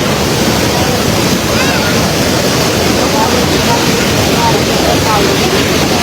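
Floodwater rushes from a broken embankment in a constant, loud, dense roar like heavy surf, with no break across the whole stretch.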